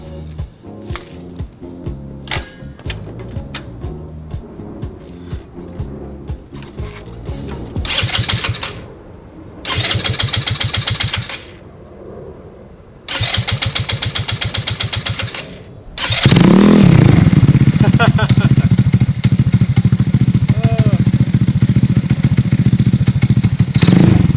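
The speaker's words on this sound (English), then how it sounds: "I think we can start this thing up." A Honda Ruckus scooter with a rebuilt carburetor and fresh lithium battery cranks in short rattling bursts, then catches and settles into a loud, steady idle, close by with no talk.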